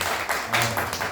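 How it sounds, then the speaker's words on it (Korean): An audience at a community meeting opens with applause, a short, dense, fairly close burst of many hands clapping together. "박수로 한번 시작할게요."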